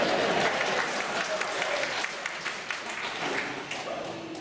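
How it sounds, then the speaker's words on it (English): Steady applause from a banquet crowd at a convention, dense and sustained throughout, close and fairly loud with no distinct voices on top. "some applause for drooling, mewling idiots or for replacing them."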